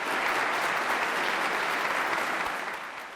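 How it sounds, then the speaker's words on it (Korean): Dense, sustained applause from a large crowd of about 450 members of the UK Parliament in Westminster's Royal Gallery, loud and even, tapering slightly at the end. "윤석열 대통령이 서자 박수가 쏟아집니다"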